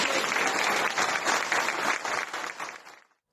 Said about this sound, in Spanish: yo quiero pedir un fuerte aplauso para mi querido amigo Pablo Castro.